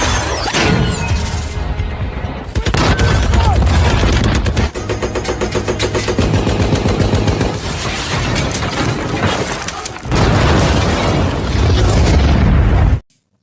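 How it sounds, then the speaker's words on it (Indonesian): War-film gunfire as soldiers shoot at Nazi enemies hiding in a house. Dense bursts of shots and booms mix with a loud, constant battle score, which cuts out briefly around the middle before the fighting resumes. "Dan Norman akhirnya memberanikan diri untuk menembaki musuh-musuhnya."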